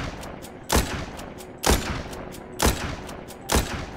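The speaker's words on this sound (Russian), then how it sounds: "Надо вот в кучки их стрелять, пока вот их кучкой стоит здесь" Gunfire in the zombie shooter video game The Walking Zombie 2: four sharp, loud single shots spaced about a second apart, each with a short decaying tail over a low background hum, no talking.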